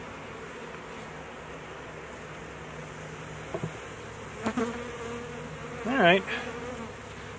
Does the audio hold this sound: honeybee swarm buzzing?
yes